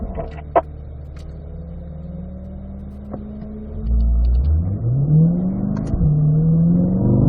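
A car pulls out onto a race track during a track-day session. The engine revs up with a rising pitch, growing louder partway through, and a few faint clicks and knocks sit under it. No one speaks.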